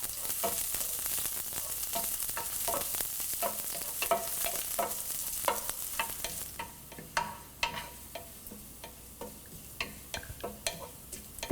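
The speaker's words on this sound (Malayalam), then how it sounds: "ഇനി നമ്മൾ തിന്നായിട്ട് കട്ട് ചെയ്ത് വെച്ചിരിക്കുന്ന ഉള്ളി ഇതിലോട്ടിട്ട് ഫ്രൈ ചെയ്യുക." Chopped onions fry and sizzle in a pan with a steady hiss, while a spoon stirs and scrapes through them in clear, repeated strokes, close and alone without voices.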